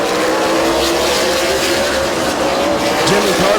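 Race cars at Midvale Speedway drone through a lap, with steady engine roar mixed with crowd and track ambience, a loud continuous blend with a passing whine near the end.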